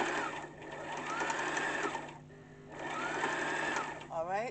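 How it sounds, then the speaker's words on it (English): Brother LS14 domestic sewing machine stitching fabric with a steady, fast mechanical whirr that runs continuously, dips briefly mid-clip as the pedal eases, then resumes, with a voice talking over it. "I press the pedal and continue to stitch."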